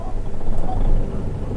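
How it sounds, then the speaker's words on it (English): Kenworth K100 truck engine starting up in Euro Truck Simulator 2, a steady low rumble building to a loud, continuous idle for a short stretch. "All right, listen to the startup."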